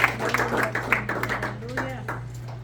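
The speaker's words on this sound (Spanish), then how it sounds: "y un aplauso al Señor" A church congregation at a bilingual Sunday service gives scattered clapping under voices speaking and praising, with a steady hum underneath.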